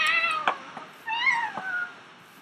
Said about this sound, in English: I heard meow really loud.